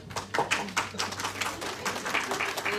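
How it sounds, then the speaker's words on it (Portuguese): A church congregation applauds a girl who just had her braces removed, a burst of scattered hand claps with some voices mixed in, fairly close and moderately loud. "Palmas pra Amanda."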